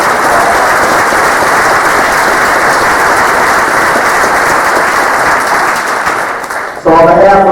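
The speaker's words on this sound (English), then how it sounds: "So let's give them another big round of applause." A large audience applauds guests at an Elgin Township TRIAD community safety event, a loud, dense, steady wash of clapping that fades out near the end.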